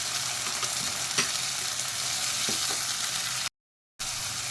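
Green peas, black peas and peanuts roast with onion in a pan under a dense, constant sizzle, with a few faint stirring taps, close by; the sound cuts out completely for a moment near the end.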